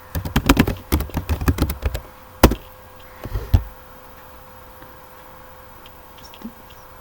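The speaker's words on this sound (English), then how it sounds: "I have wrong typed the command git status" Rapid bursts of computer keyboard typing as the git status command is entered, a quick clatter of keystrokes followed by a few isolated, louder taps and then quiet.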